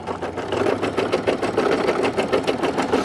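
A cordless portable embroidery machine stitches outdoors by a waterfront, its needle hammering in a fast, steady mechanical rhythm that runs loud and unbroken throughout, with no talk.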